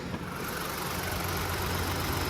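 A 1.5-liter three-cylinder turbocharged engine in a 2023 Ford Bronco Sport idles steadily with a low, even rumble and a faint mechanical buzz, nearby and continuous with no talking.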